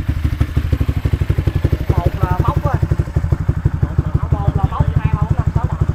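A Honda Sonic motorcycle with an aftermarket exhaust at a racetrack starts and idles with a rapid, loud, throbbing pulse close by, while people talk over it.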